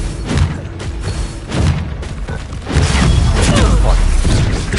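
Bombarda spell explosions in Hogwarts Legacy, heavy booming blasts and crashing impacts during a spell duel, loud and dense, mixed with shouted incantations and voices.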